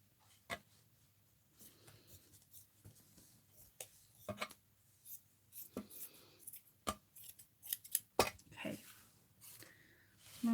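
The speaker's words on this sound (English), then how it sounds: "Here's my big scissors." Large scissors cutting thin lace net for a vintage purse, a series of sharp crisp snips at irregular intervals, close and fairly quiet, with softer handling rustles between cuts.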